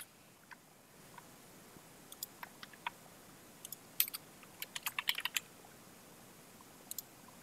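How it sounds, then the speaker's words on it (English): Sparse typing of a name on a keypad or remote during Fire TV setup, scattered faint clicks and taps, some in quick bursts, over quiet room hiss with no talking. "go ahead and type in a name"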